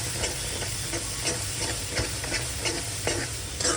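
Chili powder, coriander powder and spice mix sautéing in a pan for a vegetable curry of cauliflower and peas, a steady loud sizzle with repeated scraping stirs of a spoon, close and alone without talk.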